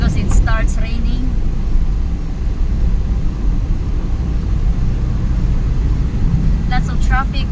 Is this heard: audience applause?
no